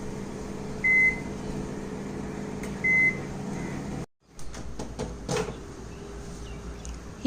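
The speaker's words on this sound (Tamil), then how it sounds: "அவனும் ரெடியாக இருக்குது அவனுள்ள வச்சிடலாம் டுவெல் மினிட்ஸ் வைக்கலாம்" Two short electronic beeps from an oven, followed by a door clunk and rattling as a tray of coconut biscuits goes in, with a steady appliance hum beneath.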